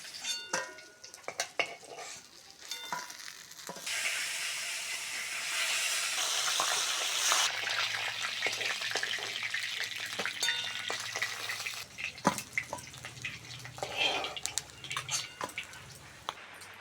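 Tilapia fish pieces sizzle while being lightly fried in oil, a steady hiss that swells in the middle with scattered clinks and stirring sounds from the pan, fairly quiet and close.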